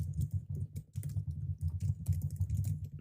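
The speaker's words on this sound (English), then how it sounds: "Doing all the typing is throwing me off." Rapid, continuous typing on a computer keyboard, close and steady with dense clicking keystrokes throughout, no voices over it.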